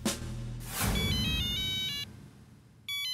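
A telephone ringtone plays in a short, beeping electronic melody that stops and then starts again, heard alone in an indoor scene with no talking.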